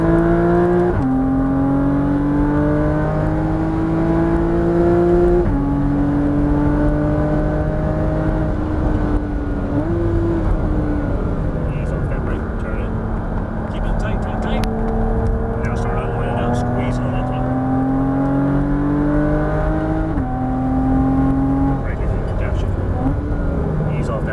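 A Porsche Cayman GTS engine pulls hard under heavy throttle on a tight track, its rising harmonic whine climbing and dipping through gear changes, loud and steady throughout while someone talks over it.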